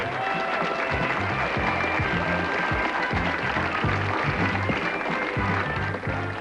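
A 1977 television game-show studio audience for Blankety Blanks applauds loudly and continuously as the host walks on, with music playing beneath the clapping throughout.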